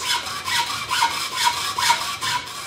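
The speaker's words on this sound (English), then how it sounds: "and cut off our hose." A hacksaw with a fine-tooth blade cuts through a medium pressure hose in quick, regular back-and-forth rasping strokes, about a dozen close up and with no voices.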